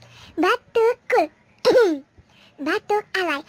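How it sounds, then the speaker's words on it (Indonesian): Playful staged coughs from a person, delivered as a quick series of short, voiced, bouncy bursts with brief pauses between them, close and fairly loud. "Batuk cool."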